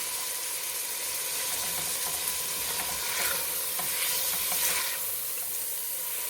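Diced pork sizzles steadily in a hot pan for chili con carne while a spoon scrapes and stirs it, a dense close frying hiss with soft clinks and no voices.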